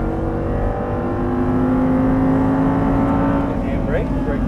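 An Audi R8 engine at full throttle on a track gives a loud, continuous drone with a slowly climbing pitch as it pulls hard, heard up close from inside the car.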